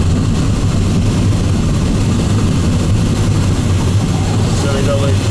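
Light aircraft engine at full power during takeoff and climb, a loud, steady low drone and propeller roar filling the cabin close-up, with no break over the whole stretch.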